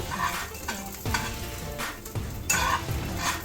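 Garlic fries in a pan for mango rasam, a steady sizzle broken by several stirring scrapes and rattles at a moderate distance.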